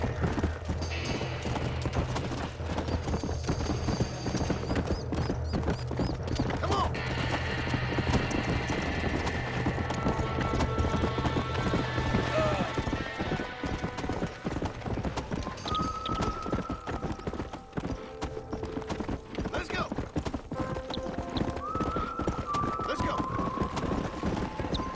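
Hoofbeats of a horse galloping in the video game Red Dead Redemption, a steady rapid clip-clop running continuously under a loud, busy game soundscape with music and effects, while a person talks at times.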